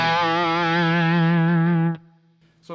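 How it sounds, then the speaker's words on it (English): Electric guitar through a Truetone Route 66 overdrive pedal, the overdrive alone without any amp or clean signal, holding one sustained, rich chord for about two seconds before it cuts off, then a short new attack at the end. "this will just be the overdrive sound without mixing in any of the guitar's amp or clean sound"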